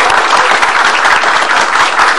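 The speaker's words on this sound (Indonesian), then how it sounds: "Tepuk tangan dulu." Loud, dense applause from an audience at an Indonesian talk-show taping, a continuous close roar of many hands clapping with no speech.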